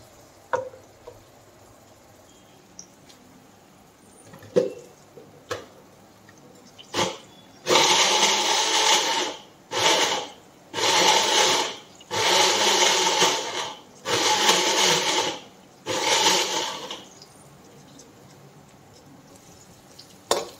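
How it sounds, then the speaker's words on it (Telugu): A kitchen mixer grinder blends tomatoes in a series of loud, close bursts, about six pulses of whirring motor separated by short pauses, preceded by a few scattered clicks and knocks. "సో ఇప్పుడైతే ఇది మిక్సీ పట్టేసుకున్నాం."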